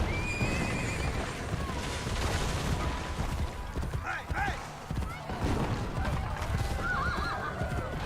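A horse whinnies amid busy sound effects in Assassin's Creed Brotherhood, with hoofbeats, creaking mechanisms and a voice talking underneath.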